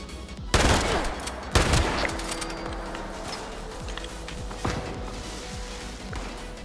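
Gunfire in the video game Fallout 76: a few sharp, loud shots ring out with gaps between them over a steady game background hum, with no talking.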